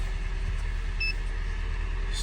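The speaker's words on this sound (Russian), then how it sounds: "Ух, стучит как-то жестко." A 2014 Kia Sportage 3 with a G4NA engine at about 140,000 km runs nearby with a steady, loud engine drone. The engine has a harsh internal knock.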